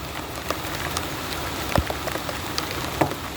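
Rain falls steadily onto hard surfaces outdoors, a dense, even patter with occasional louder drops, close and continuous with no one speaking.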